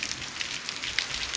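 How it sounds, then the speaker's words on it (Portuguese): Heavy rain falls steadily in Vila São Pedro, Iguatu, Ceará, making a dense, even hiss with scattered close droplet ticks and no voices. "Hoje, né, uma boa chuva."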